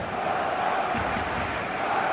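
A large stadium crowd roars steadily in the eFootball video game ahead of a match, a dense, sustained wash of massed voices at even loudness throughout.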